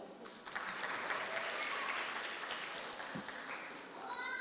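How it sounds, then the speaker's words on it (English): A crowd applauding steadily, a dense wash of clapping at moderate volume that continues throughout. "Let's have a round of applause."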